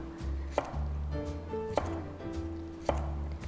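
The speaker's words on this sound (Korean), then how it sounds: "너무 크지 않게 이렇게 좀 잘게 썹니다" A knife chops root vegetables finely on a cutting board for a root-vegetable curry soup: three sharp, evenly spaced strikes over a soft, steady background tone.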